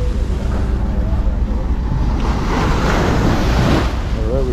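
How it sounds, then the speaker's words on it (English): Strong ocean waves surge ashore on a morning beach at El Nido, a loud, continuous roar and wash of surf close by, with wind buffeting the microphone throughout. "we've got some strong waves coming in this morning"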